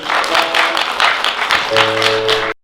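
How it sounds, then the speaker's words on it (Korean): An outdoor concert audience claps together in a fairly loud, rhythmic burst, with sustained musical tones joining underneath near the end before it cuts off. "여러분의 박수로 함께 음악하도록 하겠습니다. 박수 한번 주십시오."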